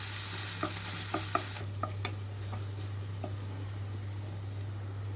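Ginger garlic paste and onions fry on a medium flame with a quiet, steady sizzle, and a few utensil scrapes and clinks come early as the mixture is stirred in the pan.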